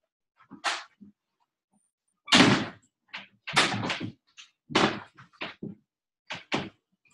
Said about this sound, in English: I'm gonna shut my door here